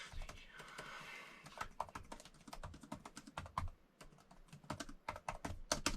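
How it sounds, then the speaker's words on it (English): Fingers tap out a quick, uneven run of light clicks on a Logitech Combo Touch backlit magnetic keyboard, the close, fairly quiet keystrokes coming in bursts with brief pauses between them. "So I'm going to type this."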